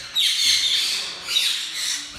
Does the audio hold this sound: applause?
no